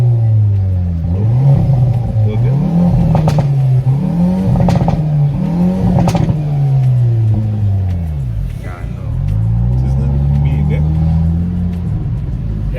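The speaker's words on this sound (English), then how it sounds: "I'm sure it surprises people a lot that a Hyundai is making these sounds." A 2022 Hyundai i30 N accelerates through several gears, its loud exhaust rising and dropping in pitch with each shift. The exhaust is close and continuous throughout.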